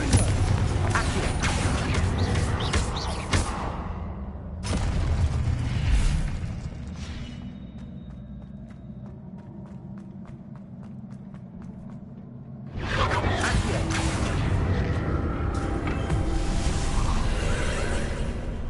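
Spell effects from Hogwarts Legacy in a string of magical casts: whooshes, booms and mechanical rumbles, loud in bursts with a quieter stretch in the middle, a heavy blast returning near the end.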